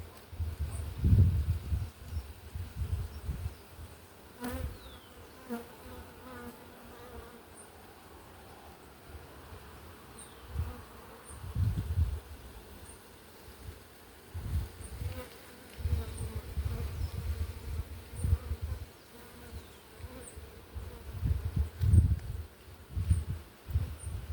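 Honey bees buzz around an open hive during an inspection, a low droning hum that swells and fades in waves as bees pass close, with quieter stretches between louder bursts.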